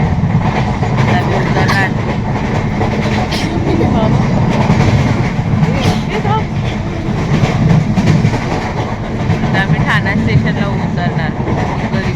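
A train rolls along the tracks with a loud continuous rumble and rhythmic clatter, while people talk over the noise.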